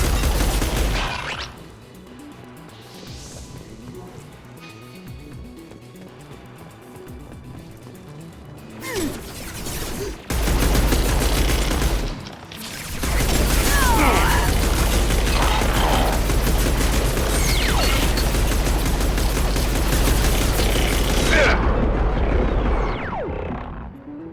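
Bursts of rapid gunfire in the video game Mass Effect 2 at the Haestrom combat zone, loud sustained volleys with crashes and impacts, quieter stretch in between.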